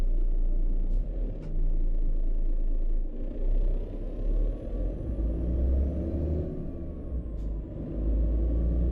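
A Volvo VNL300 truck hauling a heavy load climbs a hill in American Truck Simulator, its low engine rumble droning steadily with swells and dips and a few brief hissing bursts over the top.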